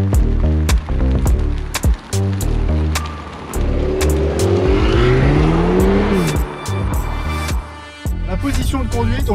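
Alpine A110 GT sports car with a 300 hp engine driving on a public road, its engine note rising and falling through gear changes, with sharp clicks and cabin noises and a steady loud hum throughout.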